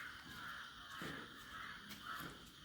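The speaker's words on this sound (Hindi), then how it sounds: "सारे कौवे, चिड़िया, सब जानवरों को दिक्कत हो जाती है कि जब मैं वीडियो बनाता हूँ" Crows caw outdoors in repeated harsh calls that overlap against a constant hiss of background noise, faint and somewhat distant, with no talking.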